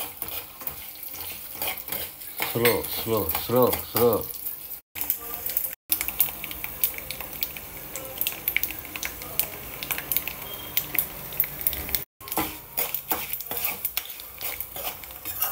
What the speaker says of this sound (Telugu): చిట్టపట్టి సౌండ్ వస్తుంది.